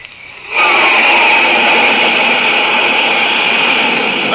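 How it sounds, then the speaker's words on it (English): A flight of jet planes roaring overhead as a vintage radio sound effect, a sudden loud, sustained broadband jet roar swelling in after a quieter start and holding steady to the end. "That's a flight of jet planes flashing across the sky, flying faster than the speed of sound itself."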